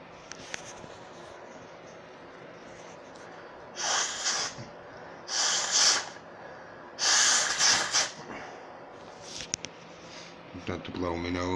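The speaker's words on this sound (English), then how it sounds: "Had to blow my nose then." A person blows their nose in three loud, close, breathy bursts, each lasting about a second, with quiet room noise and small sniffs between them.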